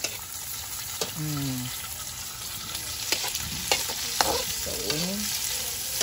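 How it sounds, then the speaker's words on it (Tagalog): Large onions drop into a hot pan and fry in a home kitchen, with a loud, steady sizzle and stirring scrapes up close. Brief voice sounds break in now and then. "Gihulog na niya ang kuan sibuyas."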